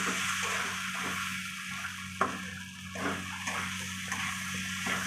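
Dry rice stirred in a hot frying pan gives a steady close-up sizzle and dry rustle, with scraping strokes and a sharp clink of the spoon against the pan partway through.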